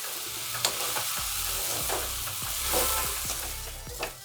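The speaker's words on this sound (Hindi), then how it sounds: "जब तक कि सारे गुड़ अच्छे से मेल्ट नहीं हो जाते आप इसको चलाते रहिए और नीचे से चिपके ना" Jaggery and ginger are stirred in a hot pan over a raised flame. A continuous sizzle runs underneath while a spoon scrapes the pan bottom repeatedly, close by. No one speaks.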